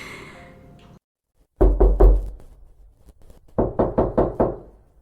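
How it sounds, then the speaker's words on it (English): Loud, close knocking on a door by candlelight in a period household: a pair of sharp, heavy thumps comes after a moment of silence, followed later by a quicker run of five raps. "The door bangs again."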